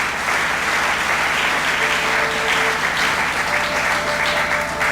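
A church congregation applauds loudly and continuously, a dense, sustained roar of clapping from a large crowd close by, with a few faint voices mixed in.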